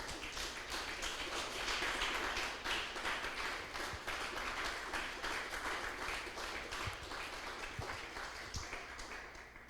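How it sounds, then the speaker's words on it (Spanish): A church congregation gives a sustained round of applause, quiet and somewhat distant, with a few sharper taps standing out. "Denle un fuerte aplauso al Señor"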